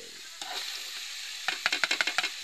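Sliced bitter gourd (ampalaya) hitting a hot frying pan in a home kitchen gives a steady sizzling hiss, then a quick run of rhythmic scraping and tossing strokes close by, with no voices.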